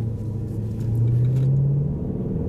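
A Range Rover SVR with its exhaust valves open gives a deep, steady low engine rumble close by, rising slightly in pitch for a moment.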